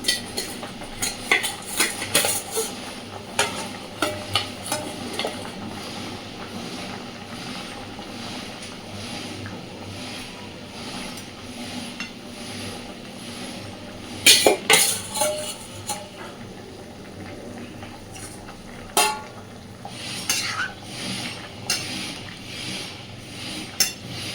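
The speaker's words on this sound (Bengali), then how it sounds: "এইবার সমস্ত ভেজে রাখা মাছগুলো ঝোলের মধ্যে দিয়ে দেব।" Fried chang fish added to a boiling cauliflower fish curry and stirred, heard as soft bubbling with scattered clinks and scrapes of a spoon against the pot, close and moderately quiet, with a louder clatter partway through.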